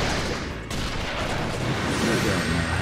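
Spiraling Bullet attack in Naruto x Boruto Ultimate Ninja Storm Connections: a dense, loud burst of rapid explosive impacts and booms, with a sharp jolt about two-thirds of a second in, continuing as a rumbling barrage throughout.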